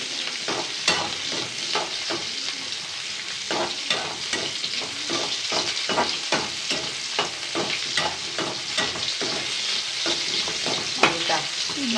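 Ingredients with curry leaves fry in a pan with a loud, continuous crackling sizzle and a regular rhythm of spatula stirring and scraping, close and without speech.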